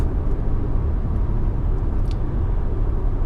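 Porsche Boxster driving on the road, a steady low engine and road rumble heard from inside the cabin, constant and loud with no talk.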